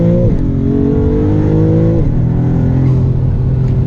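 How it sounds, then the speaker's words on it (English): A 2024 Maserati MC20 turbocharged sports car accelerates hard from inside the cabin, its engine note climbing steadily with a brief dip at a gear change, loud and continuous with no talking. "See that turbo noise?"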